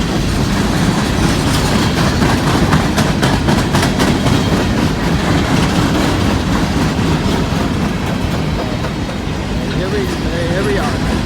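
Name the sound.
honking BNSF coal train passing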